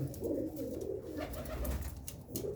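Low, continuous cooing from a large Cheena pigeon close by, a soft throaty warble rising and falling, with faint background noise.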